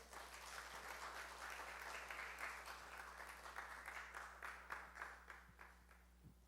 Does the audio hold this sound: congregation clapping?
yes